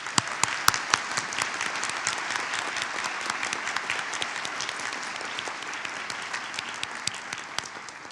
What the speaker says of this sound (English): we'd like to give all of our sponsors and our NHS members a round of applause